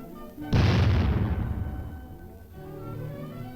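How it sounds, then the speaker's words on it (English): A high-velocity shell strikes a welded tank armor plate in a ballistic test, one heavy booming blast that rolls off into a long decaying rumble, loud and close with no voices. "Later, high-velocity shells are fired at the weld itself."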